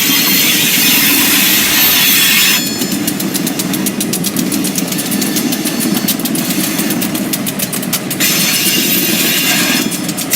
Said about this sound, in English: GLC 395 and 396 backed up onto the main line with the 4 empty center beams